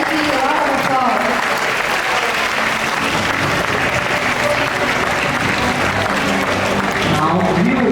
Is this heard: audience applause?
yes